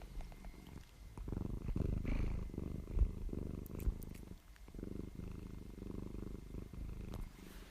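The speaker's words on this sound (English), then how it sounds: "She wants to give you a little purring message." A contented cat resting on a lap purrs close to the microphone, a soft, steady rumbling purr that swells and dips with each breath, quiet and unbroken by any voice.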